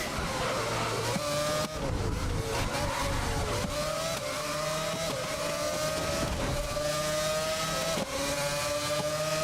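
Race car engine in GRID (2019), the fastest car in the game, screaming at high revs through repeated gear shifts with rising and falling pitch, loud and close, with faint tire noise and no speech.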